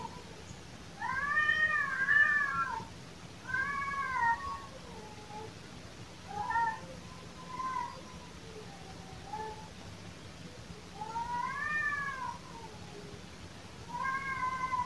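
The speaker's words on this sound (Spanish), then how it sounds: "Este grito de los gatos no es muy acostumbrado a escucharlo en las noches." Courting cats caterwaul at night, a pair trading long, wavering, whining yowls in repeated drawn-out bursts with quiet gaps between, fairly close and alone over a faint background hum.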